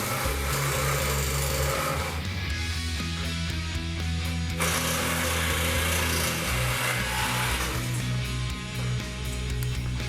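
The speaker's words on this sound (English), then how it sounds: "the cuts to remove the old tail section are made with a sawzall" A reciprocating saw cuts through the tail section of a Honda CB750 motorcycle frame, making a close, loud, harsh buzzing drone that changes pitch during the cut and dips briefly twice.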